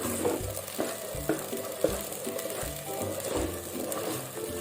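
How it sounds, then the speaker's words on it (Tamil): Ground masala for Dindigul thalappakatti biryani is stirred in a hot pan, with a steady sizzle and repeated soft scraping strokes at a moderate, even rhythm, fairly quiet and close, with no talk. "இப்போது இது நல்லா பச்சை ஸ்மெல் போகிற வரைக்கும் நல்லா நம்ம இதை கிளறி விட்டுக்குவோம்"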